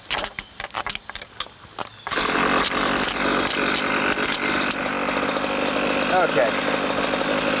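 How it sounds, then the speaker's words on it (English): A Goped ADA scooter's small two-stroke engine is pulled over with a few rattling tugs, then catches and runs as a loud, buzzing chainsaw-like idle. A voice briefly speaks before it starts. "So I'm going to start it up,"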